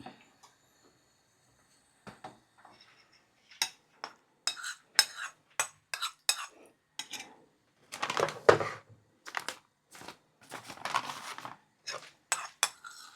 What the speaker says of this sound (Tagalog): Konti pang sugar. Haluin natin.